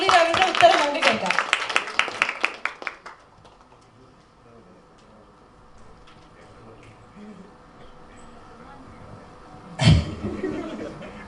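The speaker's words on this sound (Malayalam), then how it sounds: "ഉണ്ണി ലാലിന് ആദ്യം ഒരു കൈയടി കൊടുക്കാം" Audience at a fan meet claps in a short burst that fades after a few seconds, followed by a quiet stretch and then a brief voice.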